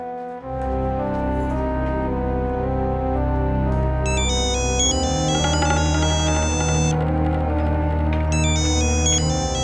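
A melodic phone ringtone plays loudly and continuously, with repeating electronic chime phrases layered over a sustained tone.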